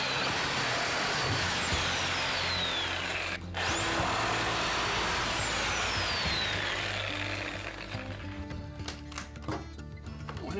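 A power saw with a blade not suited to the job cuts through wood in a shower renovation, a loud continuous whining buzz with pitch sweeps and a brief interruption, then rattling and clattering as it winds down.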